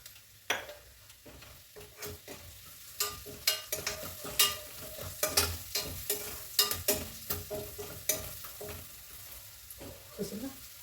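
Freshly pounded ginger garlic paste and turmeric fry in a pan, a soft steady sizzle broken by repeated scraping stir strokes close by, with no talking.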